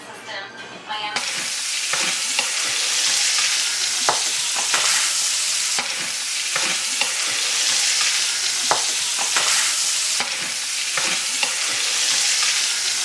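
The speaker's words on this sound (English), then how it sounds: "first we're gonna start cooking the sausage" Sausage frying in a pan for Cajun jambalaya, a loud continuous close sizzle with scattered scrapes and stirring clicks throughout.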